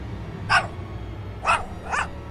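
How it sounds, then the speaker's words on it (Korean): A household pet dog named Maru gives three short barks at about even spacing, moderately near and alone against a low, steady background hum. "저희 집 강아지 마루의 소리가 들렸습니다"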